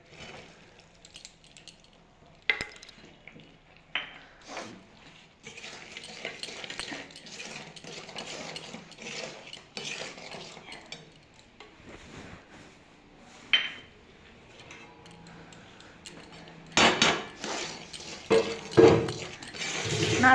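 Grated coconut being stirred in a pan for coconut laddoo, soft scraping and occasional spoon knocks against the pan, quiet and intermittent, growing busier and louder near the end.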